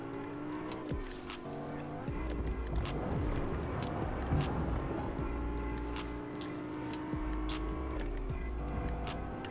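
A car is driven in the video game Fortnite, its engine droning steadily while regular ticking clicks run throughout. A heavier rumbling surge and skidding come through mid-drive.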